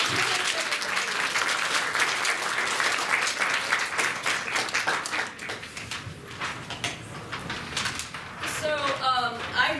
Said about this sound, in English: a round of applause for our cartoonists